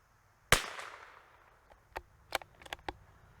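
A single sharp crack from a Tikka T1x MTR .22LR rifle firing Eley match ammunition, with a short decaying tail, followed by several faint distant pops and clicks.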